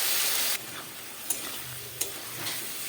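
Cauliflower fries in a pan as ground spice paste goes in. A loud sizzle drops abruptly to a softer frying hiss, broken by two or three sharp spatula scrapes.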